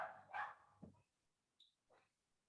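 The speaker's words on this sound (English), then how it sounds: "that was our little mutt dog. He's very cute, but it's a pain in the ass when she barks." A small mutt barks indoors, giving a few short, sharp yaps at a distance with quiet pauses between them.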